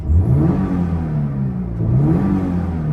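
A Toyota GR86 Cup Car engine revving close by, loud and sustained, with two rising throttle blips in a deep, steady mechanical rumble.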